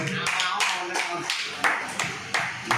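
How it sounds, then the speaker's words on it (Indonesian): Audience applause at a talk show, several pronounced claps standing out over a busier background of clapping, fairly close, with voices partly audible underneath. "Tepuk tangan untuk Mas Nurajun."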